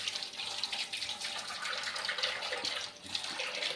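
Dishes being washed under a running kitchen tap in a home, a steady broadband rush of water with small clinks and splashes from the utensils, close and continuous throughout with no talking.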